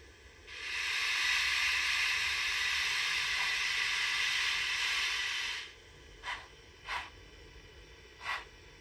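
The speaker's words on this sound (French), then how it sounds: "Voilà le ralenti qu'on peut obtenir avec une vapeur" A model steam locomotive crawls slowly on a layout. A steady hiss of steam lasts about five seconds, then three separate short chuffs follow, all faint and close.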